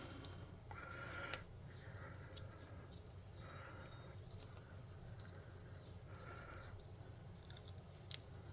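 Scissors snip through craft material while building a TTRPG miniature, giving a few faint, quiet cuts and clicks over a soft, steady room background.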